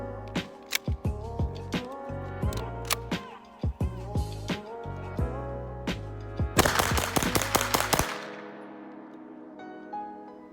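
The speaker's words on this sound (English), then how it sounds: "how about a mag dump?" A Hi-Point 995 TS carbine fires a rapid mag dump outdoors, a string of sharp, loud shots in quick succession, ending in a dense burst followed by a ringing decay and quiet.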